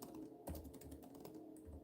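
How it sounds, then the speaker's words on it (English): Brief, quiet stretch of typing on a computer keyboard, a few close soft key taps over faint background hum, with no talking. "okay, let me type this in"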